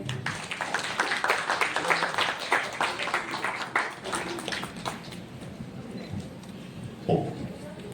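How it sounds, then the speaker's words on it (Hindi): Audience applause at an International Biodiversity Day ceremony welcoming a chief guest, a busy burst of clapping that thins out partway through, with murmured voices and a brief thump near the end. "जोरदार तालियां"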